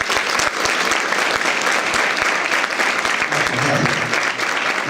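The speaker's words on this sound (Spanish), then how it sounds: "Así que le damos un fuerte aplauso." An audience applauds a speaker at an evening event, with many hands clapping in a dense, sustained burst and a few sharper individual claps and faint crowd murmur underneath.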